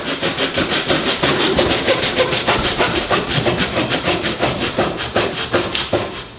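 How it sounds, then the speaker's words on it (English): Steady back-and-forth rasping of a hand saw cutting through heritage hog pork shoulder, loud and close, with a regular rhythm of strokes and no talking. "Give him saw first. Let him saw"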